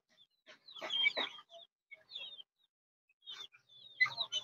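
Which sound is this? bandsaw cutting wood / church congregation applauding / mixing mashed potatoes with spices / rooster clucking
rooster clucking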